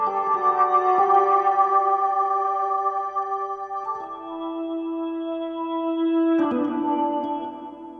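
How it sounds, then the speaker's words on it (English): Sustained Hammond B3 organ chords from a Nord Electro, with a drawbar tone, changing harmony every few seconds and washed in heavy reverb, playing alone without any talk. "I recorded my Nord Electro with the Hammond B3 sound"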